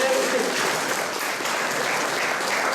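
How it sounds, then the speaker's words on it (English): A crowd gives a big round of applause, with dense, even clapping holding at a loud level from start to finish with no pauses. "why don't I give my friends Bart's a big round of applause?"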